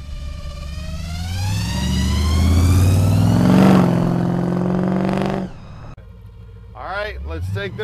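A 1956 Ford pickup engine revs up, rising and swelling in pitch to a loud peak, then drops away before a short burst of speech near the end.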